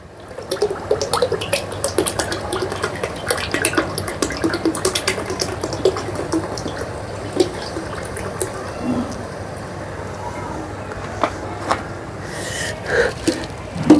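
Sesame oil, a full litre, pours into a container in a thin trickling, splashing stream with small drips and gurgles, heard up close and without speech.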